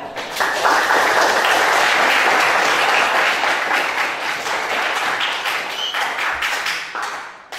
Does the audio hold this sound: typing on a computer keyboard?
no